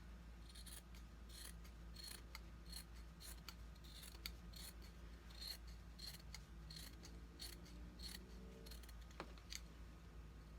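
Scissors snipping extra threads off fabric while making a scrunchie top, a series of quiet, rhythmic crisp cuts over a steady low background hum.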